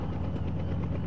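Helicopter in Dank Meme Simulator 2017 with a loud, close rotor chop beating steadily through a brief burst, no voices present.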